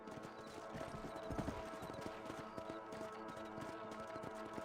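Horse hooves clip-clopping at a steady run in the Western video game Red Dead Redemption, a quiet rhythmic beat over low background ambience throughout.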